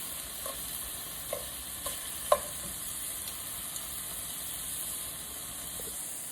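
Shrimp cooking in a pan sizzle steadily with a constant hiss, and a few small pops and ticks rise above it.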